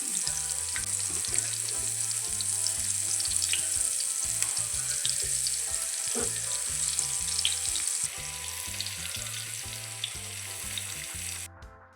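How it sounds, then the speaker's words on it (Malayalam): Brinjal slices sizzle and crackle steadily in hot oil, a loud continuous frying hiss with occasional soft clinks of a utensil. "നമ്മളിവിടെ എല്ലാം വെച്ച് കൊടുത്തിട്ടുണ്ട് പൊരിക്കാനായിട്ട്"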